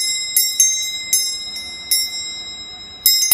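A small bell rings with bright, sharp strikes: several quick dings in a loose, uneven rhythm, each ringing out briefly, close and fairly loud with no talking.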